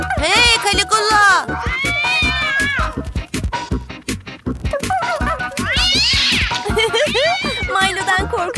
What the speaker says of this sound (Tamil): செட்ரிக் என் பூனையை காப்பாத்து